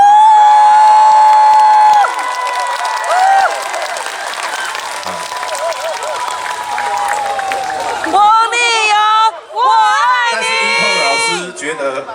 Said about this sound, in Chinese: 掌声加尖叫